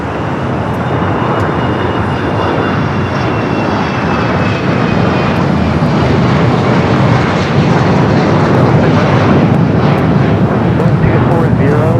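A Viva Airbus A320 in Club América livery, arriving from Monterrey, touches down at LAX with a steady, loud broadband engine roar that holds throughout, with a faint high whine and a voice briefly in the background.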